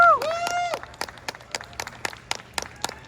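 Scattered clapping from a convention audience greets panel guests coming on stage, sparse and uneven claps following a brief whoop from a voice.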